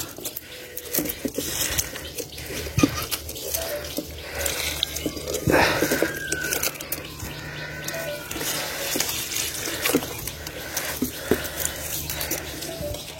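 Insecticide-mixed water is poured onto a Saudi date palm outdoors, making a steady splashing, trickling wash with patters and drips that run continuously throughout.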